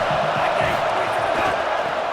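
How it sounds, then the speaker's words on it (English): Home crowd at a football game roaring steadily, a dense wash of cheering and shouting that holds loud and unbroken throughout, with no clear individual voices standing out. "how nice is it to have the home crowd going absolutely bananas?"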